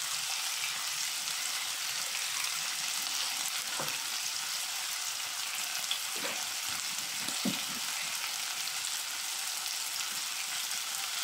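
Chicken cubes and potatoes frying in a pan give a steady broadband sizzle, fairly quiet and continuous, with a few brief stirring scrapes and knocks.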